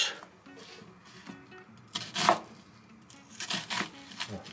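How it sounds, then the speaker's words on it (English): A knife cutting an onion into wedges on a board: a few soft slicing and chopping strokes, quiet and close, scattered irregularly. "And onion. Cut into wedge type."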